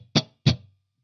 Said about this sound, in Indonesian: Jadi memang benar-benar ini suara clean dan kering, dry sound dari Friedman.